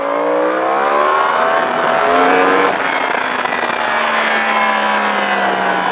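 A Yamaha R1 motorcycle accelerates hard on a race track, its engine note climbing steeply through the gears, loud and close, with a high-pitched wail that rises, shifts and keeps pulling.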